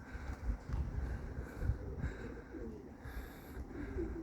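Soft, low cooing from breeder pigeons murmurs on and off over a constant rumble of wind and background noise, fairly faint and distant.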